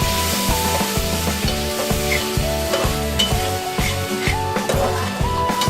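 Tomatoes frying with spiced masala for chana dal. A loud, steady sizzle runs alongside rhythmic scraping strokes of a spoon stirring the pan, with no one talking.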